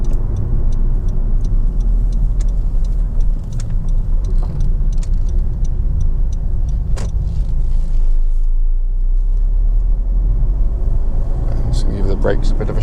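A Honda Civic 2.2 i-DTEC diesel hatchback drives and turns around, its low engine and road rumble steady under someone talking throughout, with faint ticking, likely the indicator.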